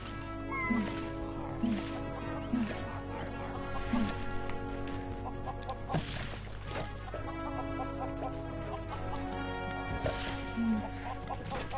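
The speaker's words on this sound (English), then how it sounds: "Some pigs and chickens is what I need right here, Savvy." Chickens in a farming video game cluck in short, spaced calls over a steady droning musical background, moderately close and mixed among other game sounds.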